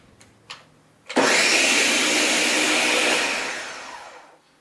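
A food processor blending beans, starting after a couple of faint clicks with a loud steady whirring roar that runs for about three seconds, then winds down to silence.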